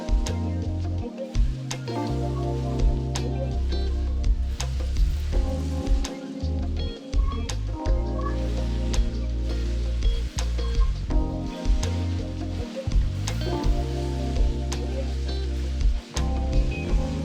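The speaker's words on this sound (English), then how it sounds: "my meat still looks a little pink, so we're just gonna let that cook a little bit longer" Ground beef for enchiladas sizzles in a pan, a steady crackling hiss that carries on throughout, with occasional clinks and low knocks from a utensil stirring the meat.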